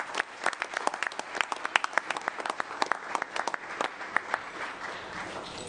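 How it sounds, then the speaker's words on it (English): Applause from the audience at a San Francisco city council meeting, a dense patter of clapping with a few sharp, distinct claps standing out, steady for several seconds. "So give them a round of applause."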